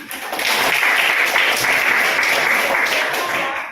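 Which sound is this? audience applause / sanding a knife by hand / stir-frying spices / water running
audience applause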